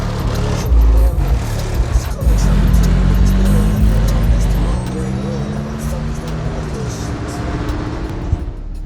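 A Mercury Marauder on 24-inch wheels cruising, its engine a steady low rumble throughout with a brief surge in the middle, close and continuous while someone talks over it.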